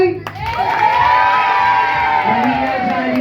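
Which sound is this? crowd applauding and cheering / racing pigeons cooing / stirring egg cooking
crowd applauding and cheering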